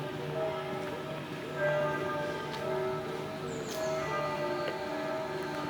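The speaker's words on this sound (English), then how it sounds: "We can hear bell sounds." Bells ring out in a park by a historic castle in Luxembourg, sustained tonal strikes over a steady outdoor background, fairly distant and even in level, with no one speaking.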